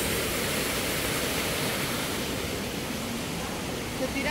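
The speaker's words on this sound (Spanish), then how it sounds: "Y esta es la cascada número 2." A waterfall at a swimming spot in El Salvador pours as a loud, unbroken wash of rushing water, filling the whole clip evenly.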